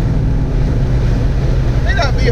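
A loud, continuous low roar of wind rushing through the open windows of a Toyota Tacoma pickup on a very windy day, steady and buffeting throughout.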